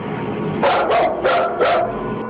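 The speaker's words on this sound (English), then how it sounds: "when your full-grown dog is barking nervously and actually backing towards the door to get away" A full-grown dog barks nervously four times in quick succession, loud and close, with short whimpering yips between barks.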